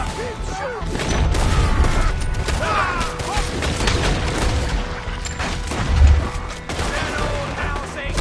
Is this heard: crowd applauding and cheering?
no